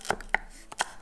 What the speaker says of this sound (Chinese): 用刀背拍打香茅